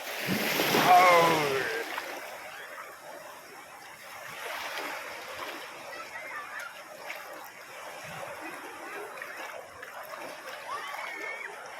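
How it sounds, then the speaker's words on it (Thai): Sea waves at Chao Lao beach in Chanthaburi, a louder splash and wash at the start giving way to softer, repeated surf and water sloshing close by, with faint voices in the background. "ตอนนี้เราลงมาสัมผัสน้ำทะเลแล้วนะครับ"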